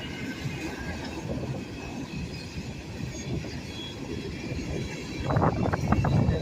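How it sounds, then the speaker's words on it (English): Freight train rolling past on rails at a steady, fairly loud level, its continuous rumble and wheel noise swelling near the end with clattering bursts as cars pass close by. "And there's the end of that train."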